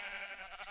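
Brown sheep bleating in the blocky survival-crafting game Minecraft, Feed the Beast modpack; one short, steady bleat, moderately loud and alone.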